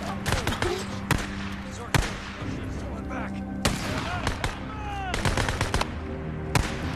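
Gunfire in the zombie-survival game Days Gone: a rapid series of sharp, loud shots in bursts, some echoing, mixed with game effects, while a player's voice is briefly present among them.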